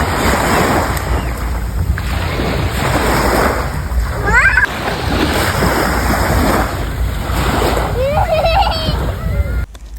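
Sea waves washing onto the beach at Chiba, loud and close, with surging surf, splashes and heavy wind buffeting the microphone, while people talk over it throughout.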